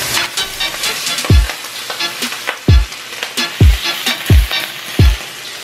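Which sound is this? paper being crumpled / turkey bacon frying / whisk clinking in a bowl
turkey bacon frying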